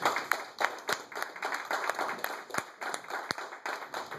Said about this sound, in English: let's give Stacy a nice round of applause, everybody